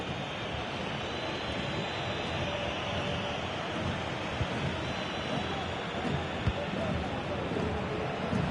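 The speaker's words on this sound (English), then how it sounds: "you can hear these Barca fans driving their team forward" Barcelona football fans in a stadium crowd during a Barcelona vs Real Madrid match, a steady dense roar of cheering and chanting that fills the whole stretch, with commentary voices talking over it.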